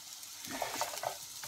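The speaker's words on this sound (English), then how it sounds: "I'm gonna get my onions in. Nice little sizzle" Onions sizzle in a hot pan for smash burgers, a steady close fry with brief stirring scrapes and no talk.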